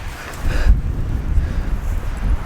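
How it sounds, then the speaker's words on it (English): Wind blowing across a mountain hiking trail in a state park, a steady broadband rush with gusty low rumble against the microphone, swelling slightly after the first half second and continuing unbroken. "So yeah, it's windy."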